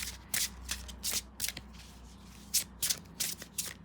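Tarot cards shuffled by hand, close and quiet, in repeated short papery bursts with brief pauses between them.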